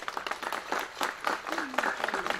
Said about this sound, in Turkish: Şöyle bir alkış alalım mı? Alkışları görelim mi?